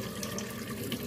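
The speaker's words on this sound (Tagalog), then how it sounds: "Punuin lang natin ng tubig yan." Tap water runs steadily into a pot being filled for lemongrass and turmeric tea, a continuous close splashing rush with no talk.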